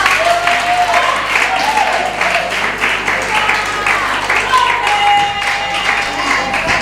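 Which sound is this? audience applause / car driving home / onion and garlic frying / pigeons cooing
audience applause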